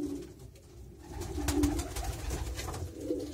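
Van de Pol racing pigeons in a breeding loft coo softly and steadily in a low, murmuring drone, close by with no talk.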